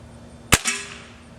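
A single sharp crack from a Winchester 1100 XSU .177 spring air rifle firing a heavy pellet at about 938 feet per second, followed immediately by a brief second impact sound, then quiet.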